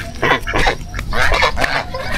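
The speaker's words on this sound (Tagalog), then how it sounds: "Ang gansa oh." Geese at a fishpond honk in a loose cluster of loud, nasal calls close by, repeated over a steady outdoor background.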